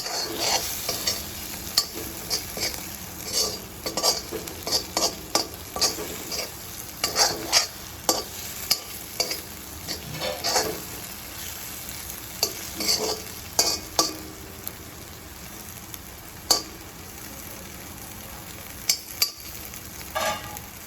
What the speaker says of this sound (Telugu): ధనియాల పొడి వేసుకొని ఒక 2 మినిట్స్లో మంచిగా కలుపుకొని